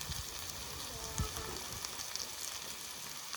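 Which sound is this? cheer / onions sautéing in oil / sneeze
onions sautéing in oil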